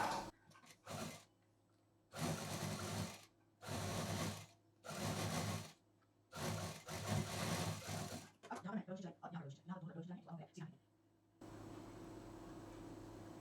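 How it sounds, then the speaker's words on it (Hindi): Sewing machine running a double line of stitching on a cloth bag: several loud, whirring bursts of a few seconds each with pauses between, followed by a person talking and then a low steady hum. "यहाँ पर डबल मशीन चलाते हुए इसको पूरा हम इस तरह से सिल के रेडी करेंगे"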